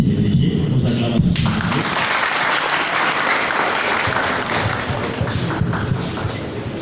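Sustained crowd applause fills an assembly hall as the director general is welcomed to close a sugar factory's pre-season gathering, loud and steady throughout, with some voices at the start.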